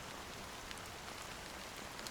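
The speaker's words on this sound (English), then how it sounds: "how long has this rain been going on for?" Rain pours steadily in the video game Honkai: Star Rail, a soft, even, continuous patter heard quietly with no voices.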